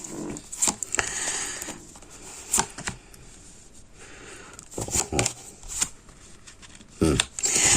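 Tarot cards being cut and shuffled in a Scorpio reading, heard as several brisk riffling bursts, close and moderately loud, with quieter rustling between them.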